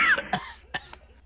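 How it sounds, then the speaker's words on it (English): A recorded cough plays back, with a few sharp, dry coughs and some throat-clearing in quick succession, fairly close and loud. "So then we've got 10 hours of coughing."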